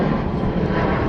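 An airplane flies overhead, giving a loud, steady, full-bodied engine roar that fills the whole brief moment without pause.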